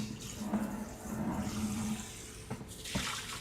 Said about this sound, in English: Now it's cleaning the bucket, making sure that the rest of the water is nice and out.